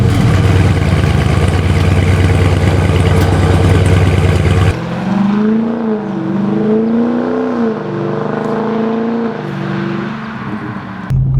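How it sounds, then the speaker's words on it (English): A Dodge Charger Daytona 392 V8 with its factory exhaust roars loud and close, then cuts abruptly to a lower rumble that swells and dips through revs, burbling on under gentler throttle. "The sound of the exhaust is absolutely insane."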